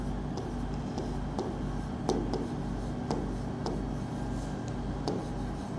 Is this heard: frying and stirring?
no